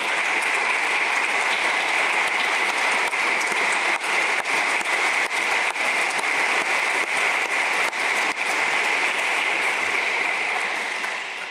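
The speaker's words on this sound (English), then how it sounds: "Give them a round of applause," Sustained audience applause fills a graduation ceremony hall for the 27th MAIS programme, a steady dense wash of many hands clapping at even volume throughout, with no speech over it.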